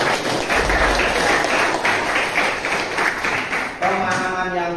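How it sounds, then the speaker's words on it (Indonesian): Students in a high school math classroom give a round of hand-clapping that runs for several seconds, then breaks off as a voice starts speaking. "kita beri tepuk tangan dulu"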